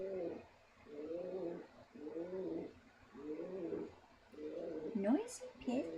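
A pet pigeon coos indoors in a soft repeated rhythm of about five rolling calls with short pauses between them, fairly quiet, with a brief higher squeak near the end.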